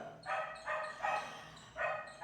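A neighbouring house's dog barks in four separate bursts, moderately loud with brief pauses between them and no other sound.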